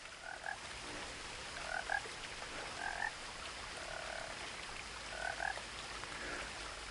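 Frogs croak in the What Remains of Edith Finch video game, short paired chirping croaks recurring every second or two over a constant wash of ambient outdoor noise.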